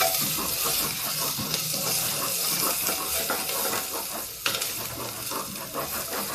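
Hot oil sizzles steadily in a pan as asafoetida goes in while a vegetable dish cooks, with a continuous hiss, some stirring scrapes and a brief clatter near the end.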